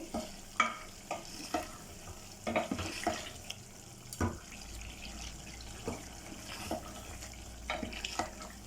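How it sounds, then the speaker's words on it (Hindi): Softened tomatoes are stirred in a pan for shinwari handi, with quiet spoon scrapes and clinks over a faint sizzle, repeating irregularly throughout at a low level. "टमाटर देखें अच्छी तरह गल चुके हैं। अब इसको अच्छी तरह मिक्स कर लेंगे।"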